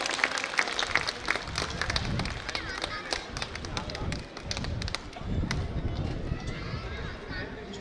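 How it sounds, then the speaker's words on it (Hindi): Audience applause at a conclave stage event as guests are welcomed, a dense, steady patter of clapping throughout with a voice talking over it. "तालियों में मजा नहीं आ रहा, थोड़ा सा तेज।"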